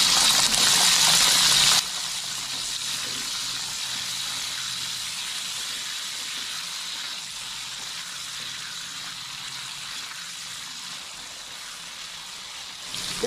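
Ingredients frying in oil for a ragout: a loud initial hiss as they hit the pan, settling into a steady, quieter sizzle that continues alone.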